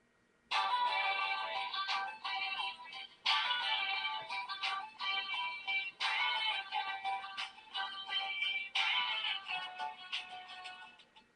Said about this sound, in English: Another ringtone for you.